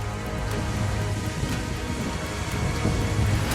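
Heavy rain pours during a thunderstorm, a loud, dense, unbroken roar with deep low rumbling underneath and no voices.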